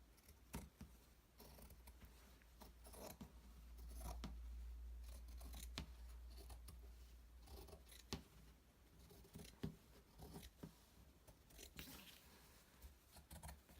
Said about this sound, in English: I'm going to cut, because as you can see, the fabric is longer than the fleece